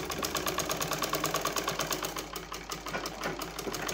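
A sewing machine runs steadily, stitching the hem of a small girl's Patiala salwar, with a fast even mechanical chatter and motor hum, close by and continuous with no talk.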